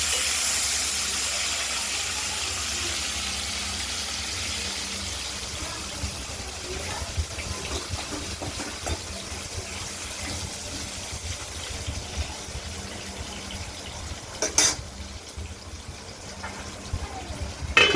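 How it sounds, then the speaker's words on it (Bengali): Potato pieces fry in hot oil with tempered whole spices for a katla fish curry, a loud, steady close sizzle and hiss that settles slightly, with a few utensil clinks near the end. "ফোড়ন দিয়ে এবার ভেজে নিচ্ছি, লাল লাল করে ভাজবো।"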